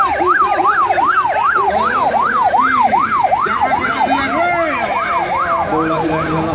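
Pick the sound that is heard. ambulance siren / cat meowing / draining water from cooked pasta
ambulance siren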